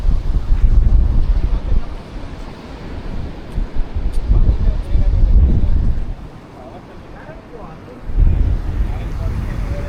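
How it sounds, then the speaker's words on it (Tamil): Sea water surging through a hole in porous coastal rocks on a Goa shore, rumbling waves rising and falling in bursts under heavy wind buffeting on the microphone. "இங்கே பார்த்தீங்களா அந்த ஓட்டை வழியாக தண்ணி வந்து ஊற்று மாதிரி ஃபார்ம் ஆகிட்டு இருக்கு."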